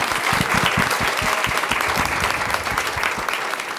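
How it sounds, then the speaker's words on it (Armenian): An audience at a women's award ceremony breaks into applause, many hands clapping in a dense, lively burst close by that holds steady and eases slightly toward the end, with no voices over it. "կխնդրեմ բոլորս ծափահարենք իրեն"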